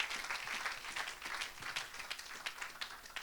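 A church congregation breaks into applause, clapping and cheering at a lively evangelistic service, a dense, steady patter of many hands heard slightly distant and moderately quiet, with faint voices mixed in.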